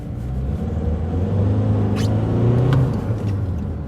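A Volkswagen Caddy Exclusive with traction control accelerates in second gear under light throttle. A steady engine drone, heard from inside the cabin, rises slowly in pitch with a low rumble and no talking.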